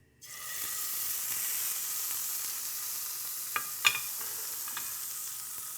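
A steak sears in shimmering hot grapeseed or avocado oil with a steady, loud sizzle that starts right away and holds. A couple of sharp pops and crackles rise above it partway through, and no one speaks.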